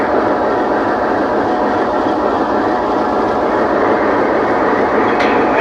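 A train pulling in and coming to a stop, rendered as a loud, continuous close rumble of wheels and carriages that holds steady throughout, with no voices.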